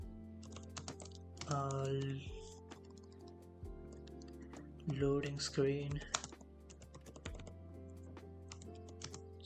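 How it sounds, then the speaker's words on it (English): Soft keyboard typing in quick bursts, close by, with a voice speaking over it at times. "my typing is a bit slow"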